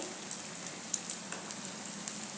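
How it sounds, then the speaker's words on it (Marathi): Leftover rice and vegetable cutlets pan-fry until crisp, giving a soft, continuous sizzle with small pops and crackles scattered across it, close by and fairly quiet. "असं थोड्या थोड्या वेळाने ही बाजू पलटत व्यवस्थित कडक होईपर्यंत आपण हे भाजून घ्यायचं"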